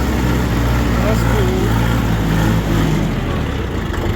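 A mini tractor's engine running as it drives, a steady mid-pitched rumble with slight revving, while a person talks over it.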